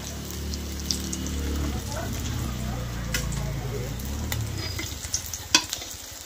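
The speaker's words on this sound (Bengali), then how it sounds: "মাছ ভাজা হয়ে গেছে, একটা একটা করে নামাবো।" Rohu fish frying in hot oil in a pan during cold weather, a steady close crackling sizzle with occasional sharper pops and a low hum underneath, continuing for several seconds.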